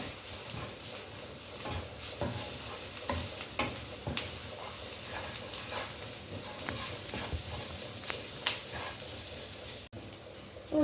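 Ground masala with freshly powdered black pepper roasting in a pan for a green gram curry, a soft sizzle under repeated scraping and clinking stirs, fairly quiet and close.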